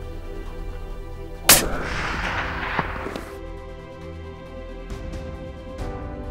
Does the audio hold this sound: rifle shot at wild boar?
yes